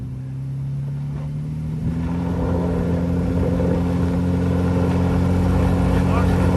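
A drag car with no line lock spins its tyres, a loud continuous engine drone and rumble that builds slightly, with voices talking over it.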